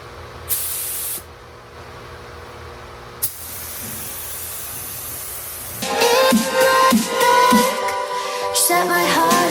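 Spray painting a second coat inside the fender of a 1968 Oldsmobile Cutlass: a short hissing burst, then a quieter stretch and a brief click, before louder mixed noise and clattering near the end.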